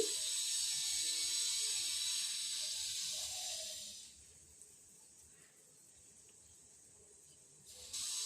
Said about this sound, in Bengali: ঝোলটা ফুটে উঠতে শুরু করেছে।